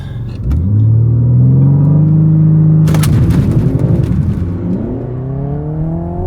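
A BMW M3 CS sports car accelerates hard from a drag race launch, its engine revving loudly and rising in pitch through the gears, with a roaring close-up rumble.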